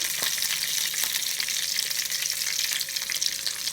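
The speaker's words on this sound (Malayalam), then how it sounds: "കടുകിട്ടിട്ട് ഇങ്ങനെ കുത്തിച്ചൊഴിക്കുന്നുണ്ട്" Mustard seeds splutter in hot oil in a pan on a Kerala stove, a busy crackling sizzle full of quick sharp pops, close and continuous with no voices.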